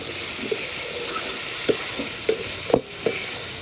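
Fried potatoes being stir-fried with mutton curry in a pot, a steady sizzling hiss under a few sharp spatula scrapes and knocks spaced through the stretch, no voices.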